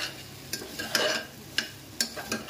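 Soaked masoor lentils stir-fried in a pan for Odisha dalma, with scraping stirs and a low sizzle; several sharp spatula scrapes stand out over a steady background hiss.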